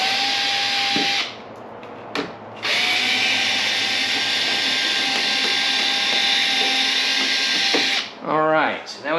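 Power drill whirring loudly and steadily as it backs screws out of a panel on a Cadillac CTS-V, with brief pauses between bursts and a few quick trigger pulses at the end; someone speaks over it.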